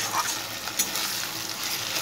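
Onions frying in a pan until reddish, a steady dense sizzle throughout with a few small crackles and stirring touches, close and fairly loud with no voices.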